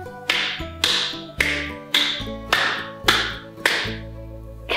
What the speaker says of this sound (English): Now for this song, we have to do a special kind of clapping.